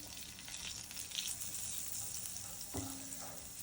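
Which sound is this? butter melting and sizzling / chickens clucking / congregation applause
butter melting and sizzling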